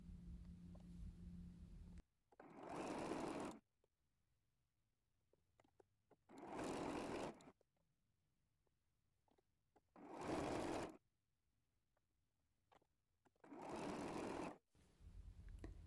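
A sewing machine chain piecing fabric with a quarter-inch seam runs in four steady whirring bursts of about a second or two each, separated by quiet pauses, close and clear with no talking.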